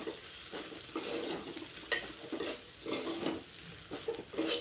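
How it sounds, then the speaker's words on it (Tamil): A spoon stirs idli upma in a pan and breaks up the lumps, giving soft continuous scraping and light clinks against the metal with a faint sizzle underneath. The sound is close and quiet, with no talking. "இந்த கட்டியெல்லாம் உடச்சி விட்டு நல்லா கிளறி விடுங்க."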